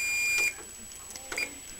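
A kitchen timer goes off while blueberry syrup cooks down, giving a short high electronic beep and then a second brief beep a second later, faint over a quiet room.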